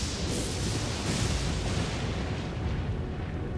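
A fire pot bursts in Elden Ring, a dense, loud roaring explosion that fills the whole stretch with sustained rumbling blast noise and no talk over it.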